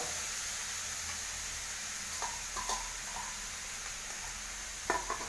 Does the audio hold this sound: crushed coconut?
yes